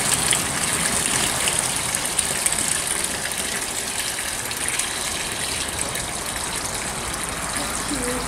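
Water gushing and pouring steadily as a soaked oyster mushroom substrate bag is lifted out of a tub, a continuous broadband splashing flow that stays even and fairly close throughout, with no talk.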